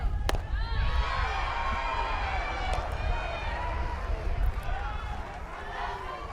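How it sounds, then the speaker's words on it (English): Large softball stadium crowd in Tucson, Arizona, roaring and jeering at a women's college game between Ole Miss and Arizona, a steady dense wall of crowd noise with scattered shouts and claps. "you better believe this crowd will let them hear it. They are on it, they are engaged"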